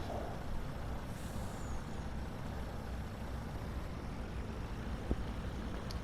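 A truck air brake hisses in Farming Simulator 19, heard as a steady, faint broadband rush with a short sharp click near the end and no talk.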